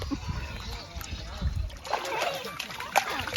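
A child splashes water at the Lam Nang Rong reservoir in Buriram, Thailand, giving irregular close splashes and trickles while adults and someone talk over them.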